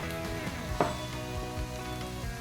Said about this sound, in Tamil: இப்போ வந்து ரைஸ் ஆட் பண்ணிக்கலாம்.